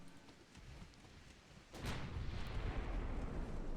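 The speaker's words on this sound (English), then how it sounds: "Put the main guns on this." Battleship main guns firing in Ultimate Admiral Dreadnoughts: after a low, quiet rumble, a heavy broadband blast erupts and rolls on as a sustained, roaring artillery rumble.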